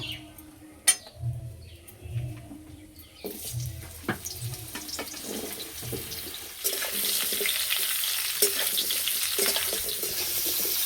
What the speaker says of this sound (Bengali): আমগুলো ভেজে নেব।